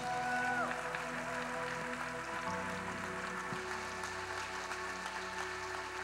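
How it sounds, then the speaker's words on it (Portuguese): Church congregation applauding during a Portuguese-language sermon, a sustained dense patter of many hands clapping, fairly distant and even, with sustained musical tones and faint voices underneath. "Aplaude ao Senhor bem forte."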